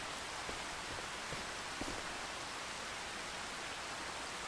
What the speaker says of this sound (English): Now it's raining on us.